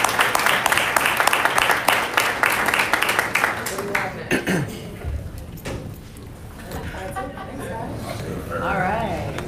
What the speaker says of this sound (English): If you guys could give a round of applause to Mike.